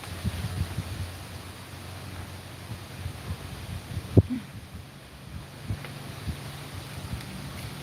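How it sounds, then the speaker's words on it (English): Strong wind gusts across the microphone outdoors beside a car being checked for an AC compressor fault, a steady low rumbling roar with one brief thump midway and no talk. "It's very windy."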